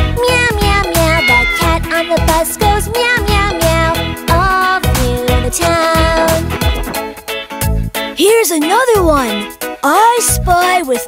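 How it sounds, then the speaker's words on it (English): A cartoon cat meows repeatedly in bright, sliding cries over a busy children's song with rhythmic music and jingles, the meows prominent and close throughout. "It's a cat."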